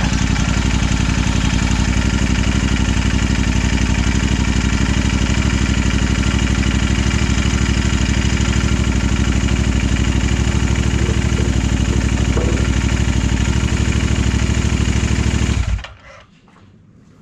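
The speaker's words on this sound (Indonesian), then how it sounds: "kita panasin dulu mesinnya sebentar." A Royal Enfield Interceptor 650 motorcycle engine idles to warm up after an oil change with Castrol Power 1 Cruise 15w-50, a loud, close, steady throbbing rumble that cuts off abruptly near the end.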